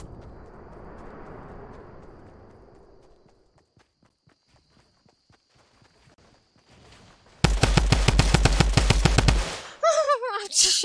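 Fortnite Battle Royale gunfire, a loud, rapid burst of automatic shots in a steady rhythm that follows quieter footsteps and ambient game sound, then breaks off into a short warbling tone.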